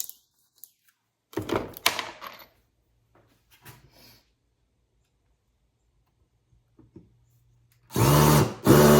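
A power drill with a worn bit, used while mounting a Starlink dish, runs in a short loud burst early on, then again at the end, with faint clicks and handling noise between.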